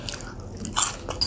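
Crunchy bites into okoy na kalabasa, fried squash fritters, close up: a few crisp crackling crunches in a short burst, with no talking.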